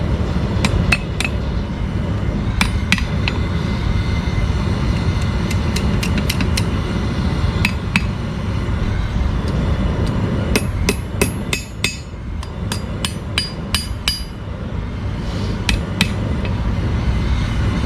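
A hammer repeatedly striking cooling steel on an anvil while forging a nail hook, with sharp metallic rings arriving in irregular bursts of strikes over a steady low background rumble, close and loud.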